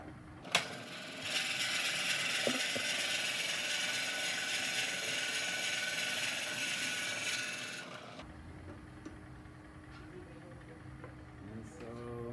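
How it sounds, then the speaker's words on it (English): A drill bit bores into a transparent light shade spinning on a lathe, giving a steady bright grinding whir for about eight seconds. It then stops, leaving quieter workshop noise with a voice speaking. "so that we can go back in and drill a little bit more"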